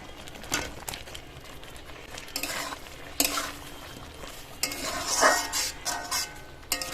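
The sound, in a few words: chicken added to frying spice masala for butter chicken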